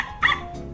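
A voice-controlled toy robot dog gives a single short, high electronic bark, close and moderately loud, over a quiet background.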